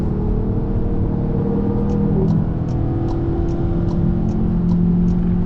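A VW Arteon Shooting Brake plug-in hybrid wagon drives at full throttle on the Nürburgring. The engine and road roar are steady and loud, heard from inside the car, and a faint, regular ticking runs through the middle.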